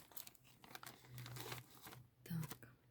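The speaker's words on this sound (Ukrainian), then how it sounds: "ви вже можете відкривати потрошку пакет. Трошки відкрили і хай адаптується" Plastic bag over young gloxinia tubers being opened bit by bit, soft close crinkling and rustling in several short bursts, with a quiet voice talking low underneath.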